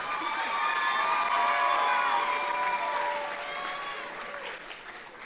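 Audience applause at a high school fall signing day for Perry Pumas athletes, a steady round of clapping from a crowd indoors that swells early and gradually fades over several seconds.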